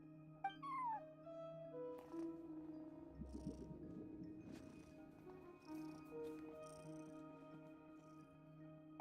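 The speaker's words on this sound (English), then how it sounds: "cat watching over the front desk. Excuse... meow?" A cat meows in the Genshin Impact video game, at a front desk. The meows are clear and sit over steady, sustained game music tones, with no talking.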